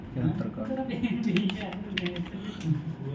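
Computer keyboard keys are tapped in quick, uneven bursts while an Aadhaar number is entered on an online driving licence application form. Someone talks over the typing throughout, close to the microphone.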